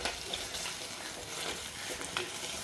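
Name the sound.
sautéing onions in a pan for fish curry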